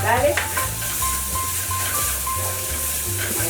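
Garlic hits a hot pan of golden brown onions and sizzles loudly and steadily, with a spoon scraping and stirring through the frying close by.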